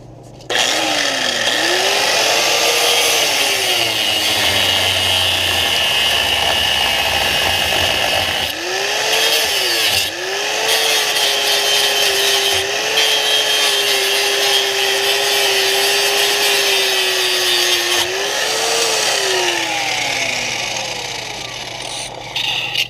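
Rivet on a 2012 Chevrolet Equinox ball joint being cut off with a power tool, a loud sustained grinding whine that rises and falls in pitch with several brief pauses.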